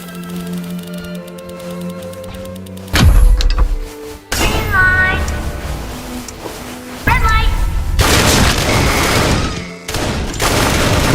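Gunfire in the Roblox game Ink Games, during a red light, green light round: several loud, sharp bursts of shots break out over a busy mix of game sounds and music.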